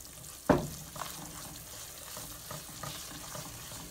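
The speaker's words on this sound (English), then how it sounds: "Stirring in more as you go if you need to." A flour-thickened gravy is stirred in a frying pan with pork chop drippings, giving one sharp scrape followed by soft, irregular scraping and a low, steady sizzle.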